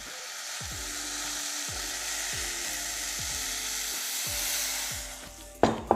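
Coconut milk goes into a pan of simmering pumpkin curry, bringing a steady close sizzle and hiss with a low pulsing hum beneath it, which eases off before a sudden sharp clatter at the end.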